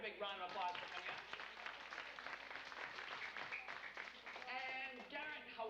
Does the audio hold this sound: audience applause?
yes